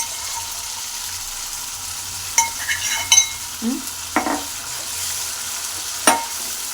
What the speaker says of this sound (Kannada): ಮೆಣಸಿನ್ಕಾಯಿ, ಟೊಮಾಟೊ ಪೇಸ್ಟ್ ಮಾಡಿರುವಂಥ ಹಾಕ್ಕೊಂಡು ಚೆನ್ನಾಗಿ ಮಿಕ್ಸ್ ಮಾಡ್ಕೊತಾ ಇದ್ದೀನಿ.